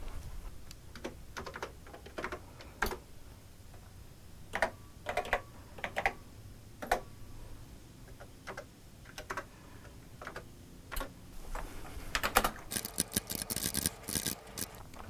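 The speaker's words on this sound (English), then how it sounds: "I'm going to type this program in" Keys on a TRS-80 computer keyboard clatter in irregular bursts as a program is entered, sharp close clicks with short pauses, growing into a denser rapid flurry near the end.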